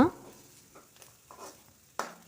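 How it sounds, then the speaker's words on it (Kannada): Two chopped green chillies in a pan for egg bhurji, soft and faint, with a few brief scraping stirs and light sizzling, a sharp clank at the start and another near the end. "ಚಿಕ್ಕದಾಗಿ ಕಟ್ ಮಾಡಿಕೊಂಡ 2 ಹಸಿರು ಮೆಣಸಿನಕಾಯಿಯನ್ನು ಹಾಕ್ಕೊಳ್ತಿದ್ದೇನೆ. ಅದನ್ನು ಸ್ವಲ್ಪ ಫ್ರೈ ಮಾಡ್ಕೊಳ್ಳುವ"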